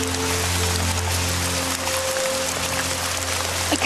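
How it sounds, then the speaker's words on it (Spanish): Steady rain falls in a dense, even hiss of drops on surfaces, with a low background hum under it. It stays continuous and fairly close throughout, and no one speaks. "¿Querés que salgamos de la lluvia?"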